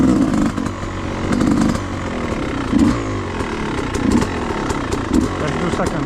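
Yamaha YZ250X two-stroke dirt bike engine revving hard as it is ridden: a loud, buzzy, raspy engine note rising and falling in repeated surges, close and continuous throughout.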